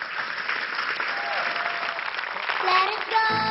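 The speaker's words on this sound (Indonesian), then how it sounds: "Tepuk tangan dong buat Talita." Audience applause for a young performer named Talita on an Indonesian TV talk show stage, a steady broadband clapping wash lasting about three seconds before music begins to rise underneath at the end.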